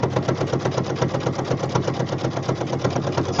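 Sewing machine running steadily while stitching a fabric-strip tube for a jelly roll rug, its fast needle rhythm close and continuous with no talking over it.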